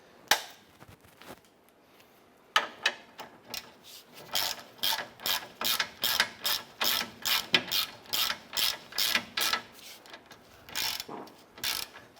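A ratchet tightens shock absorber mounting bolts on a Honda Pilot, a rapid series of sharp rhythmic clicking bursts in steady strokes, close and clear, after a few isolated clicks at the start.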